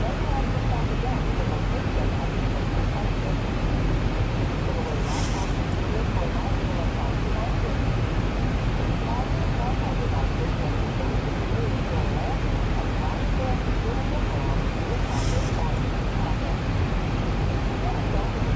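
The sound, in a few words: aircraft cockpit noise while circling to land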